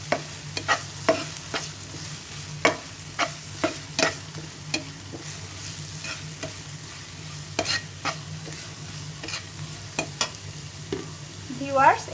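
Garlic and ginger paste stirred in a hot pan while it fries, with a steady low sizzle and a string of sharp utensil scrapes and taps recurring every second or so, close up and with no voices.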